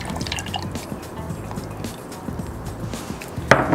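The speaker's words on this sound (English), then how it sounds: "we're going to add 1 cup of milk, 1 cup of rum chata" Milk and RumChata pour into a blender for a milkshake, making a steady close glugging and dripping stream with a brief clunk near the end.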